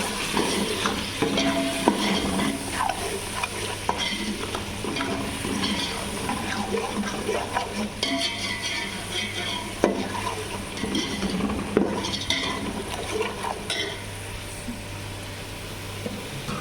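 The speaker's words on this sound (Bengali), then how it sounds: "এখন আমি মশলাটাকে ভালো মতো কষাই নিব" Spice masala is stir-fried in oil in a pot for a rice dish made with soaked basmati rice. A continuous close sizzle runs under frequent spoon scrapes and clinks against the pot.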